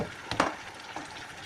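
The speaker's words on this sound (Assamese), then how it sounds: "মাছটো আমাৰ ফ্ৰাই কৰাই আছিলে" Fish frying in a pan, with a soft steady sizzle and a couple of brief clattering stirs near the start, then a quieter crackle that continues alone.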